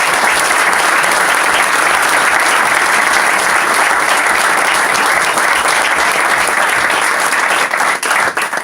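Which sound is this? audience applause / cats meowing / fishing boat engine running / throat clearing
audience applause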